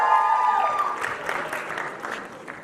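Applause and cheering from an audience at a college freshers' ramp walk and introduction event, a dense wash of clapping that starts loud and gradually thins over a few seconds, with no one speaking over it.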